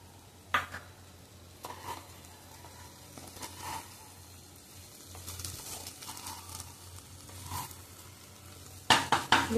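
Okra (bhendi) being stir-fried in a pan: a faint steady sizzle with scattered scrapes and clinks of a spatula against the pan, and louder clattering strokes near the end.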